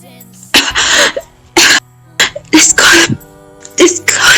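A woman coughs in agony, several harsh, wet bursts in close succession with short gaps between them, loud and near, with no talk.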